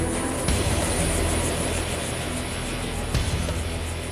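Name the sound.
Army attack helicopter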